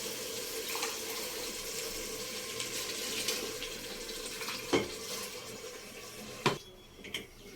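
Water poured over spiced vegetables in a pot while making vegetable pulao, a steady soft running splash with a few brief clatters near the end.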